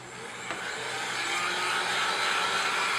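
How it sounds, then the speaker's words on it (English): A heat gun blows with a steady, close-up hissing roar while warming foam armor pieces, holding an even level for about three seconds before stopping. "get the heat gun out, and kind of pre-curl these foam pieces"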